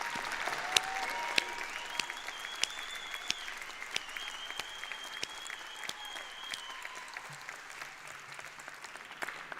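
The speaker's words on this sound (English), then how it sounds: "Let's give you all another round of applause." A graduation commencement crowd applauds the graduates, a steady wash of many hands clapping in a large hall, with sharper individual claps standing out and a faint tone running beneath, holding at a moderate level.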